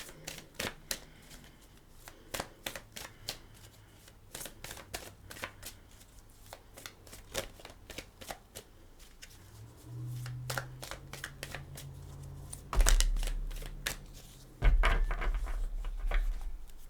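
A deck of Mother Mary oracle cards being shuffled by hand, with a rapid run of crisp riffling flicks close by, followed by a few louder bumps and thuds as the cards are handled.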